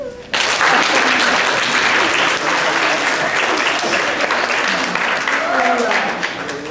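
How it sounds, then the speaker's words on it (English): Children at a grade-school Civil War living history program clap for their parents: a loud, dense, sustained burst of applause that holds for several seconds and tapers slightly at the end. "Kids, clap for your parents."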